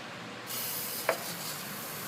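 A continuous hiss of aerosol penetrating oil sprayed on the turbo mounting bolts of a Ford 6.0L Powerstroke starts after a brief pause and runs steadily, with a single small click partway through.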